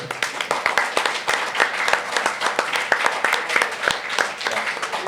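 Sustained applause from a live audience at a whiskey and bourbon livestream event, dense clapping with sharp individual claps standing out, steady and fairly loud throughout.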